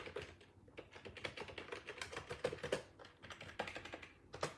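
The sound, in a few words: typing text on a keyboard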